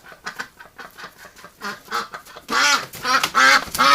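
A Muscovy duck gives repeated hoarse, harsh calls close by, growing louder and more agitated toward the end, with bursts of wing flapping mixed in during a winter outing.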